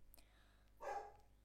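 One more short dog bark indoors, caught by a computer's sound system microphone, standing alone over faint background hum after a brief soft noise.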